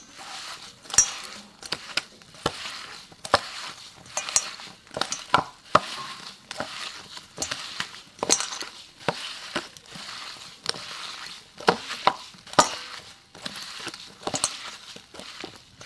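Soybean chunks being squeezed and mashed by hand with raw mustard oil, giving a steady run of soft wet squelches and light clicks against a bowl, close and moderately quiet, with no talking.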